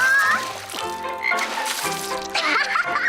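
A cartoon frog from the animated series The Loud House croaks in a dense, lively mix, with busy music-like tones and other cartoon sounds layered around the croaks.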